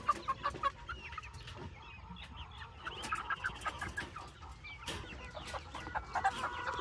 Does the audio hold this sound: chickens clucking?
yes